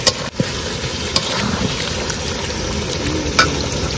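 Curry stir-frying in a pan, steady loud sizzling with occasional clicks and scrapes of a utensil stirring, close up and continuous with no talk.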